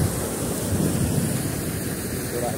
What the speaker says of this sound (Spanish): Mira cómo sale agua fuerte ahí.